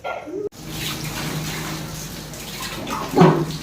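Water splashing and pouring close by as it is poured over people, with a louder splash near the end and a brief voice underneath.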